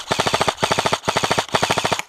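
Airsoft guns firing during a team skirmish: four loud, close bursts of rapid automatic fire, each a quick rattle of about eight shots, separated by short gaps and heard alone without talk.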